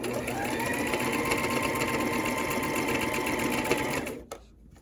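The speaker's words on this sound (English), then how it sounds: "while you are sewing, you are going to have to keep folding the fabric over." A sewing machine stitching a folded fabric hem on an A-line overgarment runs in a loud, steady whir for about four seconds, then stops abruptly into near quiet.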